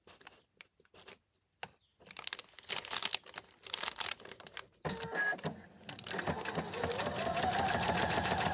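After a few soft clicks and paper rustles, a sewing machine starts up and stitches a foundation-pieced Christmas tree quilt block, its close, steady mechanical hum building toward the end with no one speaking.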